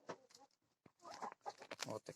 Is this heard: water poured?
no